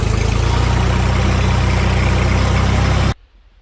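Jinma 244 mini tractor diesel engine running with reverser in forward gear, a loud, close, steady low chugging drone with rapid pulsing that cuts off abruptly near the end.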